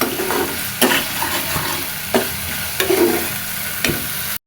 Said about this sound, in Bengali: খুব সুন্দর মতো মশলা কষানো হয়ে গেছে। মশলা থেকে তেল ছেড়ে দিতে।